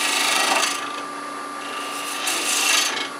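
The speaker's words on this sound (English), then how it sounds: "I'm just going to round it off first with a spindle gouge." Spindle gouge rounding a wooden tool handle on a lathe, a steady close rasping and rubbing of the cutting edge against the spinning wood, swelling and easing in short passes over a constant motor hum.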